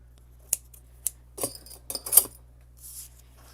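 Scissors snip tape while paper pumpkin cards are assembled at a craft table: a few sharp, separate clicks and cuts, then a quick cluster of snips and a soft rustle, close and fairly quiet with no talking.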